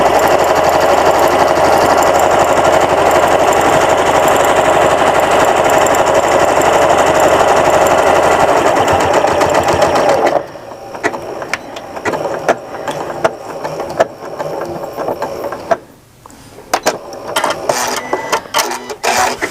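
Sewing machine stitching black thread straight across the bottom of a fabric bag pocket, a steady loud mechanical whir for about ten seconds before stopping, followed by lighter handling clatter and short bursts.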